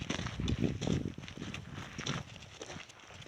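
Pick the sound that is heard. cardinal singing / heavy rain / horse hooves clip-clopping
horse hooves clip-clopping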